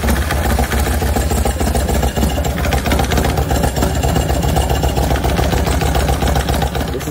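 An Orange County Chopper motorcycle engine runs loud and close, a dense, steady idle rumble that holds throughout with no talk over it.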